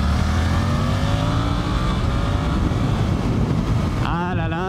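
Suzuki GSX-8S motorcycle engine pulling hard under acceleration, a loud, steady, rising roar with dense wind rush close to the rider, the pitch climbing before a shift near the end.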